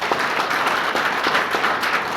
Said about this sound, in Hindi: इनके लिए बहुत जोरदार तालियां